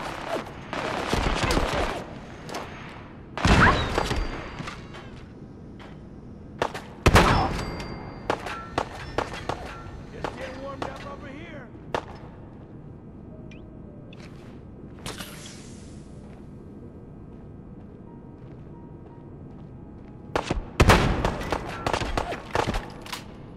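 Bursts of automatic gunfire from a sentry bot in Fallout 4, loud rapid volleys separated by quieter stretches with scattered thuds and single shots, repeating several times.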